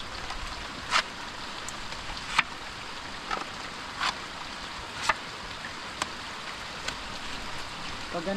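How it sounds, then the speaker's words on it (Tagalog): Light, steady rain falls on a wooden bangka boat under repair, a soft continuous hiss with sparse sharp drip taps scattered throughout. "Pag gantong ulan yung mahina pero"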